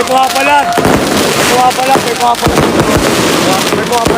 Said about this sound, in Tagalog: Laban na ng fireworks dito, guys.